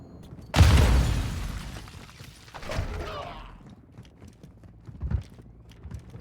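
A frag grenade going off in a tactical shooter: one loud, close blast with a long rumbling decay, followed by a couple of smaller, fainter thuds and impacts.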